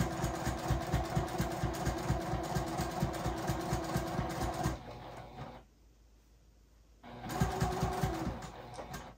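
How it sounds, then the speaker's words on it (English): A sewing machine stitches a quarter-inch seam along quilt binding for a holiday decor project, its rapid regular needle chatter running steadily, pausing briefly into near silence, then resuming close and loud. "I'll proceed down with my 1/4 inch stitching until I get close."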